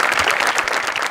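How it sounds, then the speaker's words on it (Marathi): Loud, dense applause from a studio audience at a Marathi comedy show, a continuous burst of many hands clapping close and full throughout the brief moment. "गणेश सरांसाठी एकदा जोरदार टाळ्या"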